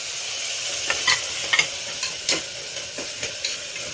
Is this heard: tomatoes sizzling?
yes